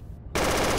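Gunfire from the tactical military shooter Project Reality: a dense, loud automatic burst erupts after a brief quiet moment and hammers on continuously to the end.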